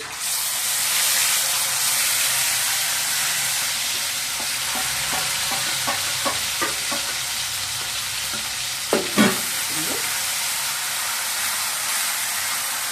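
A paste of tomato, onion, green chilli and ginger is mixed into hot oil with popped mustard seeds in a pan, for an aubergine masala. A steady sizzle carries a run of quick scraping strokes and a couple of sharper clacks, close by.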